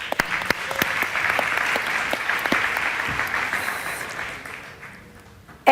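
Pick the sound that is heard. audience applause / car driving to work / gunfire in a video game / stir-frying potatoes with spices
audience applause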